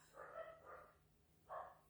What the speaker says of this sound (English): Oh, there's my dogs. I knew I couldn't go through a whole live without hearing them bark.